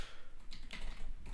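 Quiet tapping on a computer keyboard, a short burst of soft clicks at close range in a calm indoor room.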